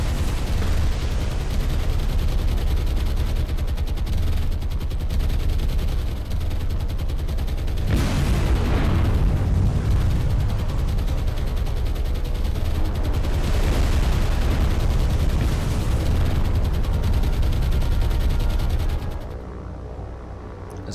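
Dense, rumbling barrage of bomb explosions from the naval combat game War on the Sea, heavy booms and crackling blasts rolling continuously for about twenty seconds before cutting off abruptly near the end.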